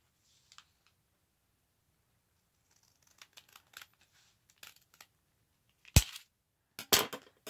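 Scissors snip through paper while trimming the top of a matchbook journal booklet: a few faint early cuts, then scattered close crisp snips building to two louder, sharper cuts near the end, with no talk.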